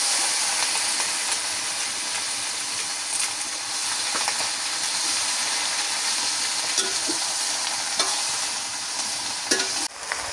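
Malabar spinach hits a pan of fried onion and chilli and sizzles in a steady, close, loud hiss that carries on without a break, with faint scrapes and stirring clinks on top.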